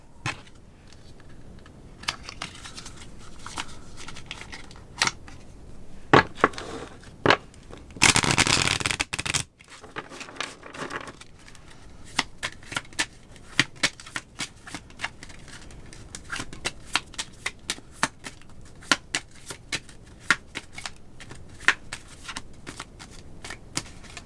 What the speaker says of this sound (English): we're going to go ahead and get into your oracle cards now